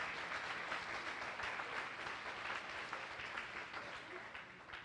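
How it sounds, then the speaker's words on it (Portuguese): A church congregation applauds with vigor, a thick, steady roar of clapping from many hands filling the room, heard at a distance with no speech on top. "Você pode aplaudir o Senhor? Mas com força, com vontade"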